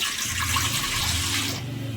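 Water pours steadily into an idli steamer pot on the stove, a continuous close splashing stream that thins out near the end, without speech.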